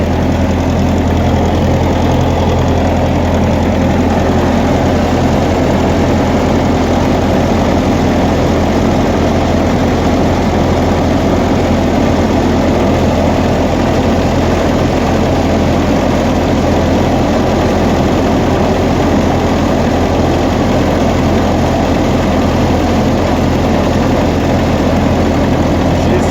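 A 1956 Massey Ferguson F40 tractor engine idles steadily and loudly up close, a constant low throbbing chug without pause throughout.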